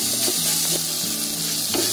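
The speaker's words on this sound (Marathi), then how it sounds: "आपला कांदा बघा फ्राय व्हायला आलाय" Onion frying and softening in a simmering gravy for a chili garlic dish, a steady close sizzle with a few soft stirring scrapes, no voices.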